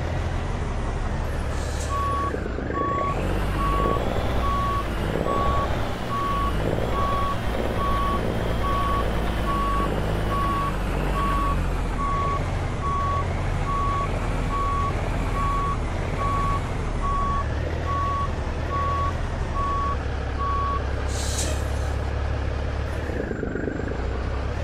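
A Kenworth W900 in Euro Truck Simulator 2 backs up with loud, evenly spaced reversing beeps repeating for about twenty seconds over a deep, constant diesel rumble.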